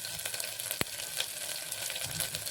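Curry leaves drop into hot oil for a rice pulao, producing a crackling, spitting sizzle with a sharp pop early on and steady frying hiss throughout, close and moderately loud.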